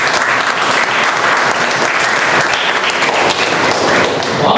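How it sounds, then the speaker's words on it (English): Loud, dense applause from a Toastmasters meeting audience, continuous clapping filling the room throughout with no pause or talk. "Another big round of applause for Toastmasters."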